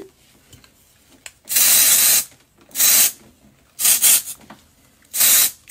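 Four bursts of aerosol hairspray hiss close by, each lasting about a second, separated by short pauses with faint rustling.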